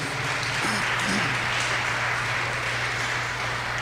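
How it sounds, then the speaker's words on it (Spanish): A congregation applauding during a religious gathering, a steady, full round of many hands clapping, fairly close and continuous with a low hum beneath and no speech. "Denle un aplauso a la palabra de Dios"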